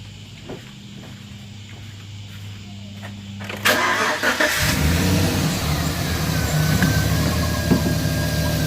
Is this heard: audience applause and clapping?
no